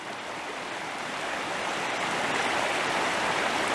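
A branch of the Thornton River in Shenandoah National Park rushes over rocks, a steady close broadband gush of flowing water that grows slightly louder, with no voices.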